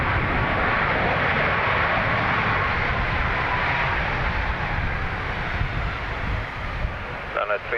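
A Ryanair airliner landing at Dublin Airport gives a loud, steady, broadband roar of engines and rushing air that stays close and constant for the whole stretch, easing only slightly near the end.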